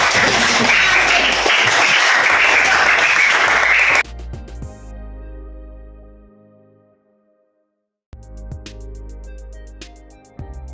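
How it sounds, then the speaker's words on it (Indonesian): A crowd claps loudly in dense, sustained applause for about four seconds, then it cuts off, leaving quieter tonal sounds and a pause. "Jadi tepuk tangan dulu ke kelompoknya."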